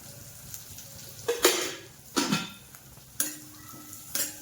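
Peas stirred in hot oil in a pan while making bakery-style khari patties, a soft sizzle under several scraping spoon strokes against the pan, close by with no talk.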